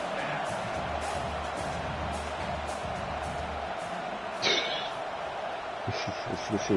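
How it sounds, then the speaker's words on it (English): Home crowd at a college football game roars steadily through a fourth-down play, a broad distant cheer under continuous play-by-play commentary, with a brief louder swell midway. "Home crowd trying to make a difference on fourth down."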